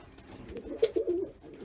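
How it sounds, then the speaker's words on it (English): Ringneck doves giving a brief, soft coo close by, a short low warble lasting under a second against a quiet background. "now I've got the ringneck doves down there."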